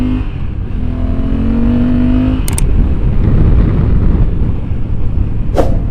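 A motorcycle rides on an open road, heard as a steady loud roar of engine and wind noise, with a brief rising engine tone at the start and sharp clicks partway through.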